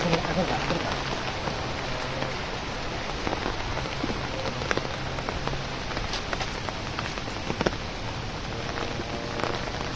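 Steady rain pours down outdoors, a dense close hiss of drops with scattered sharper splashes on surfaces, continuous and fairly loud, with faint voices mixed in beneath.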